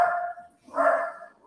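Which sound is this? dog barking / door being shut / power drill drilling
dog barking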